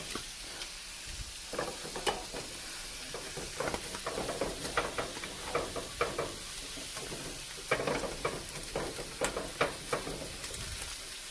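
Steady crackling sizzle of egg and onions frying in a hot pan, with scattered sharper pops and spits throughout, close and continuous.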